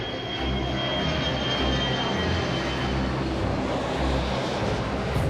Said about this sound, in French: Ici, un avion se pose toutes les 2 minutes.